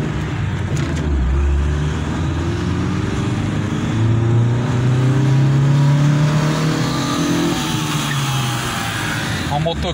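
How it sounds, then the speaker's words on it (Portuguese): A motorcycle engine revs hard on a road, a steady loud engine drone with rising pitch sweeps that swell and fade over about ten seconds. "O cara acelerou a moto, hein?"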